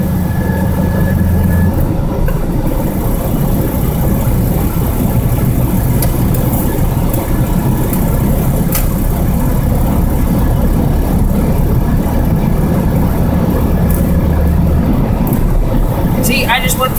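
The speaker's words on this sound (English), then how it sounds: "I just went through all five gears and I didn't even touch the clutch" Car engine running loud and steady while the driver shifts through all five gears without using the clutch, the tone rising and dropping with each change as someone talks over it.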